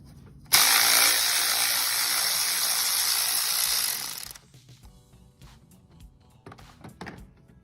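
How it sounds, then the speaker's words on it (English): A ratchet removing a T30 bolt on a BMW 535i engine bay, one long steady buzzing run of clicks lasting several seconds, loud and close, followed by quieter handling clatter. "use a T30 And remove this bolt from here"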